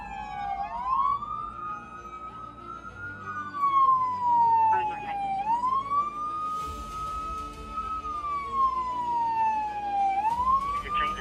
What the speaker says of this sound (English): Shut off the siren!